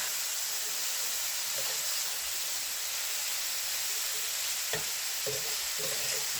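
Potatoes with spices sizzle steadily in a pan for Bengali aloo bhaji, a constant frying hiss broken by a few soft stirring knocks, with no talk.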